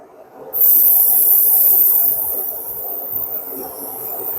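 An airbrush spraying light mist coats of paint onto a model car body, a loud, steady high hiss that starts abruptly and runs continuously, easing slightly after a couple of seconds.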